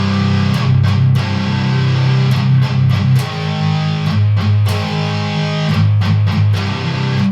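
Chugging, palm-muted electric guitar riff with a tight, choppy rhythm and short accented stabs, loud and steady throughout with no voices.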